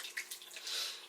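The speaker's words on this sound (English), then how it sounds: "I'm just gonna put a little more of the hot water that I have in the pot" Hot water poured from a pot into a steaming herbal blend: a brief, soft, splashy stream of liquid, close by and fairly quiet.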